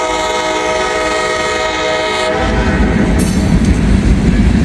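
A GP38-3 locomotive hauling a long freight train sounds a loud sustained horn up close, then the rumble and rattle of the passing cars takes over.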